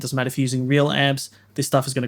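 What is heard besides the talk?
No everyday noises stand out.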